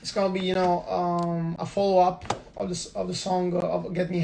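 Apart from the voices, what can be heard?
None of the usual background noises is heard.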